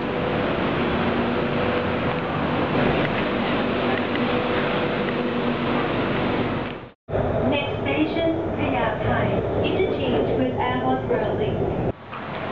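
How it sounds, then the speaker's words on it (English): An airport express train rumbles and hisses steadily at a Bangkok station, with a brief cut midway and people talking over the noise. "Hey, look, the train's just arrived."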